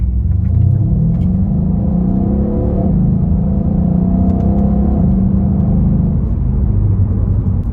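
A Mercedes-Benz E63s AMG (W212) with a twin-turbo V8 revs hard, its deep, loud, continuous engine rumble and whirring drone close by, with no voices.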